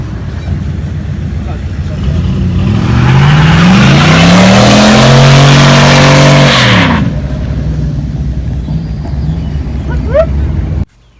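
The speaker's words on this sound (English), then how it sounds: "how'd y'all like those burnouts?" Truck doing burnouts: a loud engine revs and climbs steadily in pitch with a broad roar of tire noise, then cuts off abruptly near seven seconds, leaving a quieter idle.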